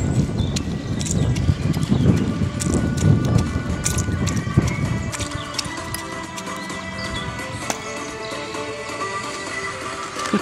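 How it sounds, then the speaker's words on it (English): A masher crushes lime slices and sugar in a glass for a caipirinha, giving repeated close, gritty thumping and grinding strokes for several seconds before it quiets to faint clinks. "Mesh with the masher."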